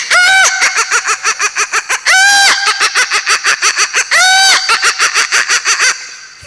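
A man on a comedy stage imitates a rooster crowing. Loud drawn-out crows alternate with rapid rhythmic clucking bursts, with a third crow near the end, all close and forceful.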